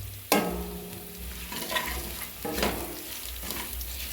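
Chopped garlic, curry leaves and green chillies frying in oil in a pan for aloo kurma, with a sharp sizzle burst as they hit the pan, then steady crackling and a few stirring scrapes close by.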